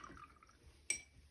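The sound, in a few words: rinsing a watercolor brush in water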